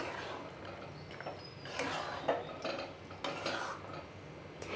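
A spoon mixes fruit salad with custard and rasgulla in a bowl, making soft, close scraping and wet stirring sounds with occasional light clinks of metal on the dish.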